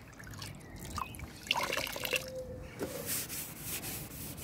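Blackened, dirty water drains out of a basin, trickling and dripping with small gurgles at a steady, moderate level for a few seconds.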